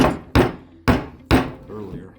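Wooden pegs are hammered into a wooden board for a folding indoor dog gate, four sharp hammer blows at a steady pace, each with a short decay, with a faint voice near the end.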